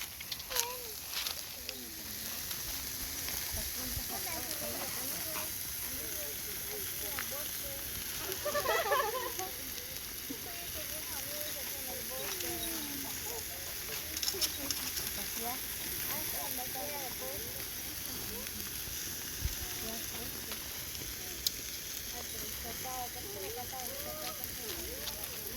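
Chicken and beef grilling over an open fire at a family cookout in Joyabaj, Quiché, with a steady crackling sizzle running throughout and voices murmuring faintly in the background.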